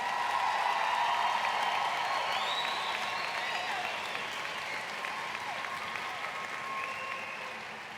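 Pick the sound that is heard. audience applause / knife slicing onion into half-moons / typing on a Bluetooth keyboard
audience applause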